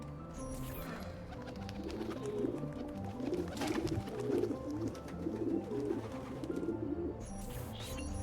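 Pigeons coo steadily at a pigeon coop in Assassin's Creed II, layered soft calls repeating throughout over a continuous game ambience, fairly close and moderately loud.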